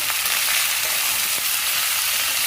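Vegetables with capsicum and salt sauté in a pan with a continuous bright sizzle and hiss, close and fairly loud, with a couple of faint stirring scrapes and no talk.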